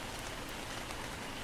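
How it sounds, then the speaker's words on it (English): Steady rain falls in the video game Ark: Survival Evolved, a dense, even hiss of drops on surfaces with no breaks and no voices. "Better fill it up, it's raining."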